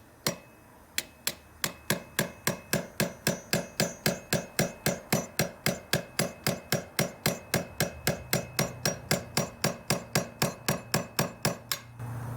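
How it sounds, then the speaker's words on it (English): Light hammer taps on a 13mm socket seated over an intake valve spring, about thirty sharp, evenly spaced metallic strikes in a steady rhythm, close and clear with no talking. "So I've got a 13mm socket, and the intake valve is the one that's kind of hung up."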